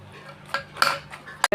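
A few scraping, clinking strokes of a metal utensil stirring chana dal kootu in a metal pressure cooker pot, close by and quick, with a brief louder clank near the end.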